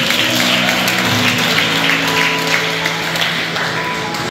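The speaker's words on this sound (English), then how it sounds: "Maybe another round of applause." An audience at a wedding reception claps in a loud, dense round of applause, with sustained tones and voices mixed underneath, fading slightly at the end.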